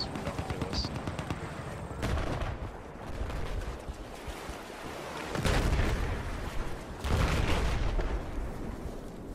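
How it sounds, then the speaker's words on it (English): Heavy cannon fire in a naval combat video game booms out in several loud blasts spread across the stretch, with rumbling battle noise continuing between shots. "Getting killed by these frickin' cannons."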